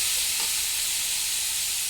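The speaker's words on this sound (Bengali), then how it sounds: "তারপর দেব চিকেনগুলো। ভালো করে এটাকে ভাজতে হবে।" Chicken pieces frying in a hot pan for egg chicken chowmein give a steady, close, broadband sizzle and hiss that runs without a break and without voices.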